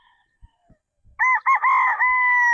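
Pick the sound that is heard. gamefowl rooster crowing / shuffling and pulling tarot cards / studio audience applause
gamefowl rooster crowing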